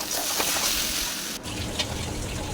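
Water pours into a pan of masala cooked with green chillies, salt and turmeric, a steady broadband trickle and splash that runs throughout at close range with a brief dip midway.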